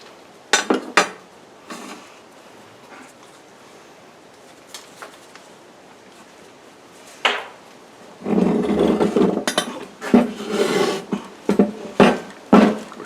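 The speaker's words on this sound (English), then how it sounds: "loosen those bolts, maybe leave one or two in, and pull the unit back to separate it from the case" A Borg Warner Quadratrac transfer case low range unit being worked loose and pulled off, with scattered metallic clanks and knocks that grow into a cluster of scraping, clunking metal handling toward the end.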